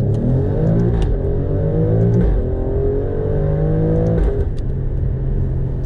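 An Alfa Romeo Stelvio Quadrifoglio accelerates hard, its engine revving up in rising sweeps broken by quick gear changes, loud and close with a deep rumble underneath.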